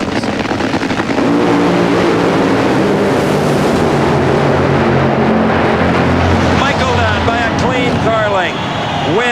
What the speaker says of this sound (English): Mike Dunn could join the very elite group of drivers who have won in funny cars and dragsters.